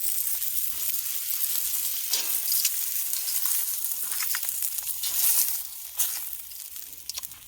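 Salmon fillets frying in a pan at a deer camp, a loud, dense, continuous sizzle with bright crackling spatter and a few stirring clicks near the end, no talking.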